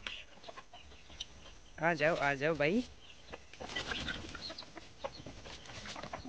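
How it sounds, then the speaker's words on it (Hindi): A chicken coop with hens and new chicks gives off a few short clucks and rooster-like calls amid people talking, one burst briefly louder over the voices. "यहाँ में मुर्गी नया नया बच्चा दिया है, ये ही मुर्गी का घर, यहाँ में मुर्गी लोग रहता है।"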